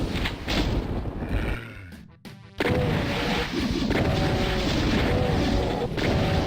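Sustained heavy weapon fire in Doom aimed at a group of cacodemons, dense repeated blasts and crashes filling the scene loudly, with a brief drop-out partway through before the barrage resumes.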